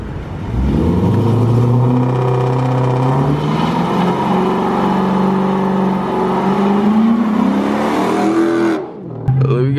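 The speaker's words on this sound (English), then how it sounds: "I'm gonna show y'all how to do a proper burnout." A car engine revving hard and holding high during a tire burnout, a loud sustained roar with rising and wavering pitch for several seconds before cutting off abruptly near the end.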